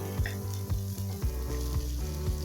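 Chopped onion and green chilies sizzle in a pan with mustard seeds and curry leaves while being stirred, giving a loud steady crackle with repeated scraping strokes and no voices.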